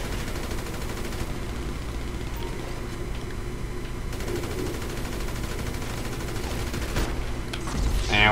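Muffled bursts of gunfire crackle on and off in a video game shootout, fairly quiet and steady under the game's ambient noise, with a brighter sharp burst near the end.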